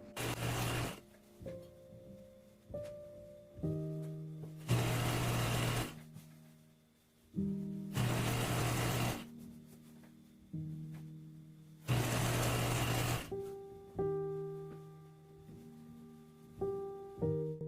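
Sewing machine stitching a waistband, folding in the raw edge, heard as three loud, steady bursts of motor-driven stitching about two seconds each, separated by quieter handling and fabric movement.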